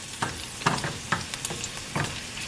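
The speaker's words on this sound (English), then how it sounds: "So this is simmering real nice, and we just want to let that get fragrant." Serrano chili peppers sizzle in a pan, with a steady fry and several sharp stirring scrapes spaced about half a second apart, close and clear.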